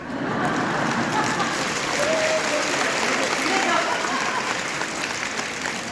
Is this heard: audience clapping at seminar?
yes